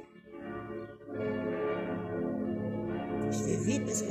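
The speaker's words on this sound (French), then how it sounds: "Je vais vite parce que j'entends des cloches." Church bells ring at a distance beneath a steady murmur of voices, their bright tones swelling toward the end.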